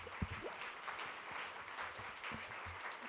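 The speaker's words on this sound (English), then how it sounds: "I know you're clapping because we're still standing." An audience claps in a sustained broadband wash, with a few sharper nearby claps and low thumps mixed in, steady for the whole stretch.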